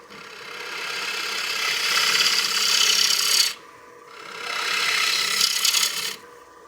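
A skew chisel makes slicing cuts on wood spinning on a lathe for a cake stand, giving two long, close, raspy shaving passes with a short lull between them.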